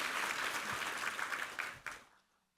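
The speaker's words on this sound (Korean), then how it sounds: "이부성가대 한번 감사의 박수 한번 드리겠습니다" A church congregation at a Sunday service applauds the choir, a dense burst of clapping filling the room before tapering off and fading to silence near the end.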